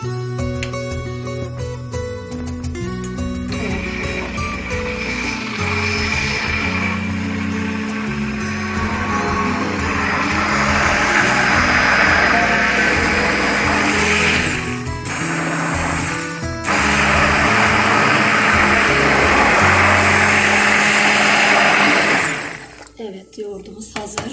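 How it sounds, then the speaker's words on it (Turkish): An electric mixer whirs continuously as it blends cooked village yogurt for tarhana soup. The motor is loud and steady, with brief dips and pitch changes near the end, and a voice talks faintly over it. "Şu anda yoğurdumuz pişmiş bulunuyor. Mikserden geçireceğiz."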